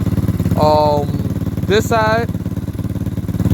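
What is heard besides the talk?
Lifan KP Mini 300 motorcycle engine spitting exhaust from head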